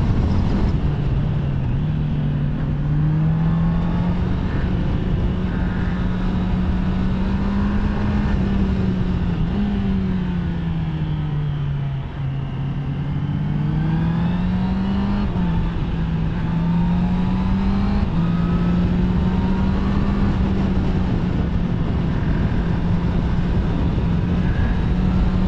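A Honda CBR650R E-Clutch motorcycle on a test ride gives a loud, sustained four-cylinder engine drone with steady wind rush, its pitch rising and falling smoothly through gear changes over the whole stretch.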